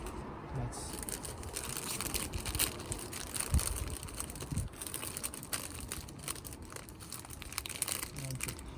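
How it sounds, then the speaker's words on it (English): Plastic bag crinkling and rustling steadily as it is tied around a Japanese black pine branch for air-layering with sphagnum moss, close up, with brief crunchy bursts throughout. "tie this plastic bag"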